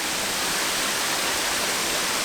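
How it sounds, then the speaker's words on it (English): Steady, close roar of a waterfall at Pwll-y-Wrach, one of a pair falling at low water, a dense continuous hiss of cascading water with no other sounds. "So here is our second, and if you want to be pedantic, possibly third waterfall, because we have a pair of waterfalls."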